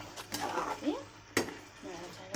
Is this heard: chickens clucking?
no